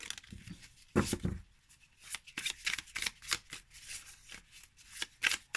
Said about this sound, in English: I position my fingers to do the riffle shuffle